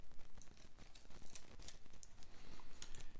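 Tape peeled off a guitar body during a build, a quiet run of soft crinkling, tearing and ticking sounds up close with no one talking.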